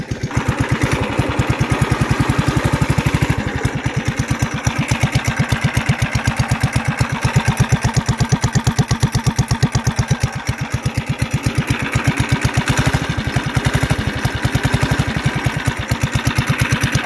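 A mini bike engine idles steadily with a fast, even putter that stays loud and close the whole time, with no voices over it.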